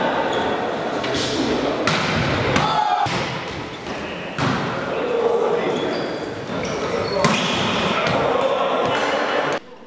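Volleyball strikes ring out in a gym during a district championship match, sharp loud thumps recurring every second or two over a steady wash of crowd noise and voices.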